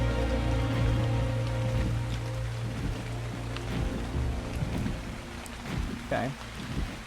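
Steady rain falls in the ARK: Survival Evolved video game at a river inlet by the ocean, a continuous dense hiss of drops layered over a low sustained tonal drone.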